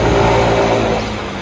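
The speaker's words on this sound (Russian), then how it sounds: "Горку просто отлично тянет, с нуля до 30 прям." A Yamaha Gear utility scooter's small engine drones loud and close as it pulls up a hill from a standstill, a steady throaty hum under continuous wind noise.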